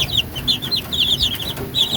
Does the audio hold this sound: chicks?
yes